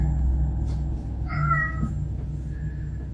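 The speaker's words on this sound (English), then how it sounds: "My cat just keeps walking around meowing" A house cat lets out one short, mid-distance meow partway through, faint over a low household hum, with a few small clicks around it and no talking.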